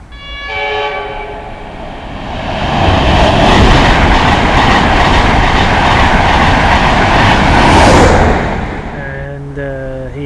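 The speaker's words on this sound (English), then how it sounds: "One Z87 private charter as the Peterborough train arrives." A charter-class passenger train for Peterborough pulls into a station near Hitchin and Stevenage, a loud rumbling roar with a horn sounding at the start and wheel clatter building and fading as it passes close by.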